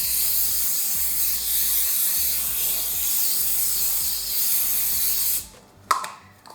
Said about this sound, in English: you want to give it a good spray